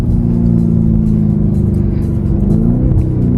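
A Lamborghini Urus Performante's engine holds a steady, loud, close-up drone with a low rumble, fairly even throughout and without sharp revs, and no voices over it.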